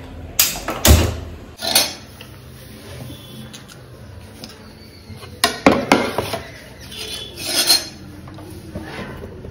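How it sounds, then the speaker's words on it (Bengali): Kitchen utensils and pots being arranged during home cooking, with sporadic metallic clanks and clatters in short bursts, fairly close, with no talking. "বাসনগুলো গুছিয়ে নিলাম, মশলাটা করে নিই।"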